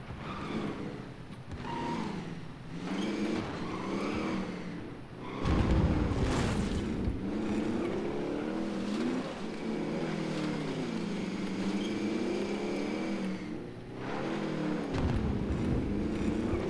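Vehicle driven in the Call of Duty Warzone video game, with a steady engine drone that rises and falls as it revs and accelerates across the whole stretch, under a continuous bed of game sound.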